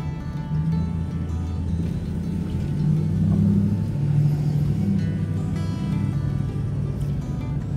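A truck drives along a road with a steady low engine rumble and road noise throughout, the engine note rising slightly in the middle, with no one talking.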